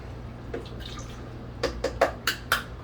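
Soy sauce, a quarter cup of it, poured into a blender, heard as a short run of soft drips and splashes, five or six close liquid spatters in the second half over a low steady hum.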